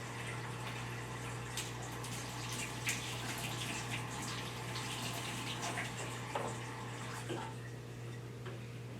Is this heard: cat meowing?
no